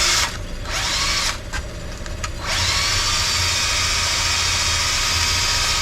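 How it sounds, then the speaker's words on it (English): A power drill spins a carburetor part against sandpaper, a steady high-pitched whine with gritty rasping that cuts out briefly twice near the start, then runs continuously. "And then spin it on this sandpaper."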